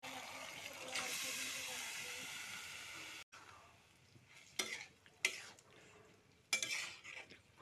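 Meat pieces go into frying masala in a pan: a loud, steady hiss of steam and sizzle, a sudden break, then quieter frying with several sharp scrapes and clatters of a utensil against the pan.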